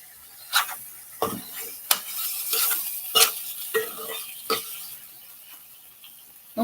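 Fish dumpling stuffing seasoned with soy sauce sizzles in a pan while a utensil breaks it up, giving a series of sharp, irregular scraping strokes over a steady frying hiss.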